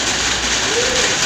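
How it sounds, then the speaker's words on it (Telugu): Steady rain falls in a village, a dense, even hiss that continues unbroken at moderate loudness through the short stretch, with no voices. "వర్షం పడుతుంది."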